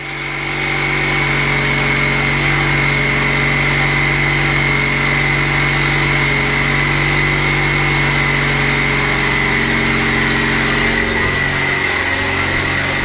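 An Ecoboost-engined DeLorean idles steadily and loudly close by at about 1300 RPM while still cold, with a plugged vacuum system, a constant low hum and a faint high whine, running alone without any voices.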